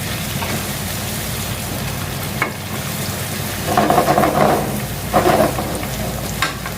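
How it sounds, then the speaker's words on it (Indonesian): Spices sautéing in a pan for Bogor-style soto mie, including a 2 cm cinnamon stick, three cardamom pods and one star anise: a steady sizzle and fry with occasional louder crackling swells and light stirring. "tumis biar matang"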